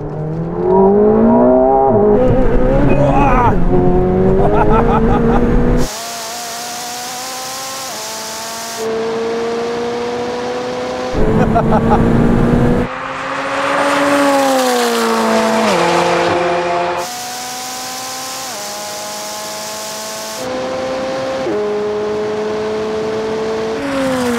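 A McLaren and a modified Ferrari 488 Pista accelerate hard side by side in a drag race, loud close engines climbing through the revs with repeated gear changes and sharp cuts between in-car and outside views.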